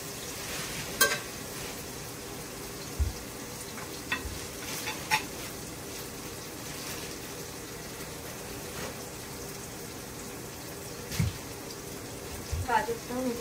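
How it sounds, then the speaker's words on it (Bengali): Carrots frying in a pan make a steady, soft sizzle, with a few sharp utensil clinks and taps scattered throughout. "গাজরটাও মোটামুটি ভাজা হয়ে গেছে,"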